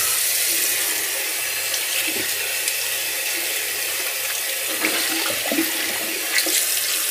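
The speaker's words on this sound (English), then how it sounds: "So let me get a cold water rinse in" A water tap runs steadily into a sink for a cold water rinse during a shave, a continuous close hiss with small splashes and no speech.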